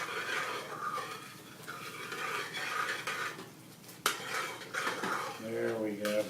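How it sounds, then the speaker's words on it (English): A spoon stirs Cajun roux in a cooking pot, scraping and clinking against the metal in continuous close strokes with a faint sizzle underneath. "take the tip of the spoon and just stir it in like this"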